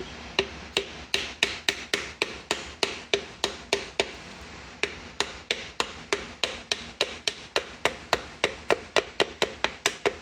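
Light, regular taps from a 48-ounce hammer ring out on a metal crankshaft sleeve of a 350 Chevy engine, dozens of crisp strikes in a steady rhythm with brief pauses, close and clear.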